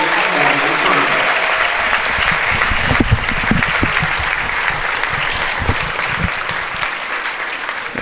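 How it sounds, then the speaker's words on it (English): Sustained audience applause fills a high school wrestling tournament gym, a dense, steady wash of clapping from a large crowd that holds at an even level throughout with a few louder claps standing out. "Ladies and gentlemen, again, can we have a round of applause for the Todd Day family"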